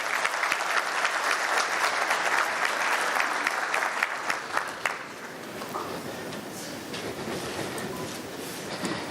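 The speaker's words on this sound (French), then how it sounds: "Madame Tiako, sous vos applaudissements, s'il vous plaît." Audience applause at the opening ceremony of an insurance conference, a dense burst of clapping that is loud at first and thins after about five seconds into softer, scattered claps with room noise.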